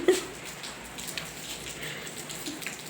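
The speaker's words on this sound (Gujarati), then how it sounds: "ધીમો વરસાદ આવે છે" Light rain falls steadily as a soft, diffuse patter of drops on surfaces, faint and continuous with a small knock near the start and no talking.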